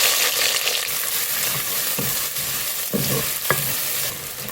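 Chopped large onions fry in a pan with curry leaves for a Tamil crab kulambu, a steady close sizzle with intermittent stirring scrapes and soft clinks throughout.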